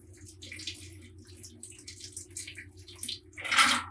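Hot water sprays and splatters inside a Keurig coffee machine during cleaning, a steady watery spattering over a low mechanical hum, with a louder gush near the end.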